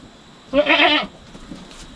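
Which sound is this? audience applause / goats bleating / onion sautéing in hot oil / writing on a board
goats bleating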